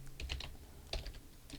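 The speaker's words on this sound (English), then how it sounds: "So I'm going to type my program." Fingers type a program on a computer keyboard, a quick irregular run of close key clicks and taps in a quiet room with no talking.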